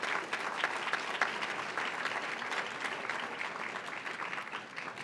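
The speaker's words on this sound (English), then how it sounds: "Please give them a round of applause." Audience applause at an awards benefit dinner, a steady, dense wash of many hands clapping throughout, evenly sustained with no speech over it.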